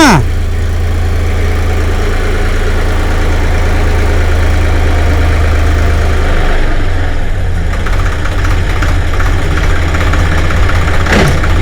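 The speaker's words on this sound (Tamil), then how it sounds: "வண்டியை பின்னோக்கி எடுத்து திருப்பி வந்து இன்னொரு ஓட்டு ஓட்ட போகிறாரு" A tractor's diesel engine runs loud and steady as it reverses while ploughing a field for marigold cultivation, with a deep low rumble throughout and a shift in tone partway through.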